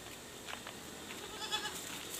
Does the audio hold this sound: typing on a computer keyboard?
no